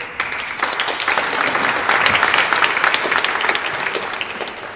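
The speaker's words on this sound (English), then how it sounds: "please give him a big round of applause" An audience claps steadily at a SingularityU London talk on blockchain architecture, a dense even round of applause of moderate loudness lasting several seconds.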